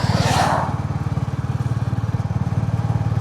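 Royal Enfield Classic 350 motorcycle idling close by, a loud, steady single-cylinder thump pulsing in an even rhythm, with a brief hiss over it at the start and no voices.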